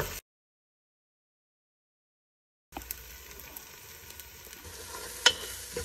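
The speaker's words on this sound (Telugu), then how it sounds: "3 స్పూన్లు కారం అలా అని చెప్పి ఇప్పుడు వేసుకొని కలుపుకొని బాగా వేగింది." Chili powder stirred into onions and ginger-garlic paste frying in a pan for country chicken curry: after a short silent gap, a soft sizzle with scraping stirs and one sharp spoon knock near the end.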